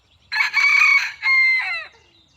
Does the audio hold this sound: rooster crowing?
yes